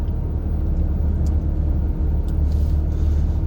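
Car driving at night along a mountain road through the El Dorado fire zone between Angelus Oaks and Mentone, a steady low engine and road rumble close and continuous throughout, with no talking.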